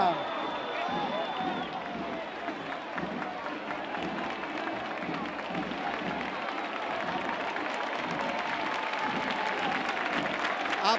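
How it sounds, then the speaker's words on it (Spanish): Crowd applause at a festival of battery-powered toy car races, steady dense clapping that holds for the whole stretch, with voices mixed into the crowd noise. "aplauso."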